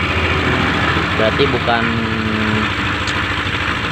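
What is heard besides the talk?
Yamaha NMAX scooter engine idling with a rattling noise inside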